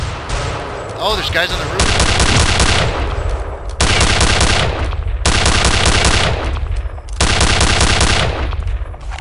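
Automatic gunfire from Return to Castle Wolfenstein rattles in long, loud bursts, three sustained volleys separated by brief gaps, with a voice speaking over the start.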